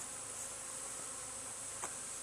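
A honey bee swarm gives off a steady, faint, even buzz that continues without a break, with a brief louder moment near the end.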